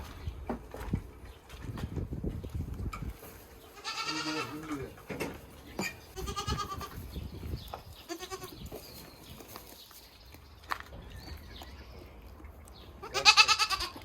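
Dairy goats at a home farm in Kyzylorda bleating in several separate calls, one loud and close near the end, over quiet rustling and faint background voices.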